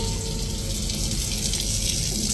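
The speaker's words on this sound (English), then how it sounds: "the kitchen faucet activated repeatedly by itself" A kitchen faucet runs at full flow, a steady close hiss of water splashing into the sink without pause.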